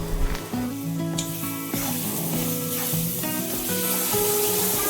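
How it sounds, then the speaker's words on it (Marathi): Fresh grated coconut roasting in a pan for a Malvani masala gives a continuous close sizzle and hiss with occasional stirring scrapes, steady and fairly loud throughout, with faint tonal sound underneath. "आता खोबरा पण जरा थोडासा भाजून घेऊ।"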